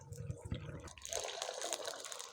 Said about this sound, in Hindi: ये इसमें आधा कप पानी डालते हैं और साथ ही इसमें चीनी और इलायची ये डालते हैं।